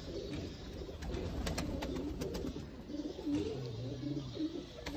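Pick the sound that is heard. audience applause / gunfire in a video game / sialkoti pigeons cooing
sialkoti pigeons cooing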